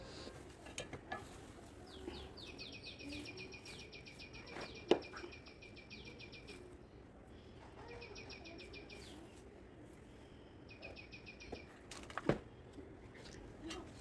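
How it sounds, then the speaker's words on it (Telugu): Birds singing in a home garden: a few bursts of bright, rapidly repeated trilling notes, each lasting a few seconds, over a faint outdoor background with scattered soft knocks. "చూస్తున్నారు కదా బర్డ్స్ సౌండ్ ఎలా వస్తుందో"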